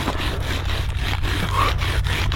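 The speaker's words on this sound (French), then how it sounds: "on a une scie à neige qui a trop la classe" A snow saw rasps through snow on a glacier in quick repeated strokes, close and fairly loud, a rough scraping rhythm with no talking.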